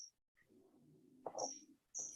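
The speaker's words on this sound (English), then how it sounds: "there's a bird chirping really, really loudly" A bird chirps loudly and close by, sharp high calls at the start, in the middle and at the end, with a low murmur of background noise between them.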